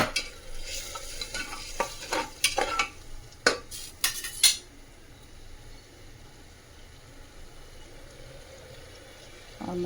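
Spices for a dal sizzle in a pan while a spoon scrapes and stirs, giving a run of sharp metallic scrapes and clinks over soft frying hiss, then the stirring stops and only a faint sizzle remains.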